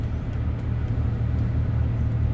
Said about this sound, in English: So hopefully the car's not too loud.